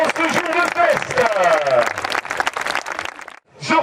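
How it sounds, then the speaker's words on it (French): At a medieval festival at Château Montvéran, a crowd acclaims the royal couple with loud cheering and voices mixed with clapping, then breaks off abruptly into a short silence before the noise returns. "Je vous demande une acclamation pour le couple royal qui nous fait l'honneur de sa présence en ce jour de fête."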